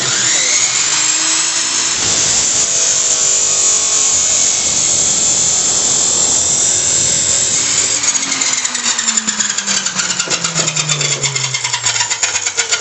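A loud, steady high-pitched whine of a chop saw squaring off metal for car suspension mounts runs throughout, winding down with a falling pitch near the end.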